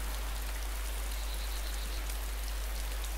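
Steady rain falling in the game DayZ, a continuous dense hiss of drops on surfaces that fills the whole stretch at an even level, with no talking over it.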